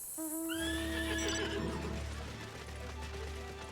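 A horse-like mount in Final Fantasy XIV neighs loudly and shrilly at the start, then its trotting hooves carry on as a steady clip-clop over a low, constant rumble. No one speaks.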